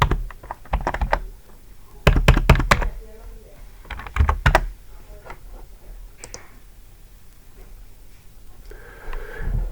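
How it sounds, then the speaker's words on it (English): Clattering bursts of keystrokes on a computer keyboard as a search term is typed into a web database, quick clusters of clicks separated by short pauses, close and alone. "we can type in the search parameter"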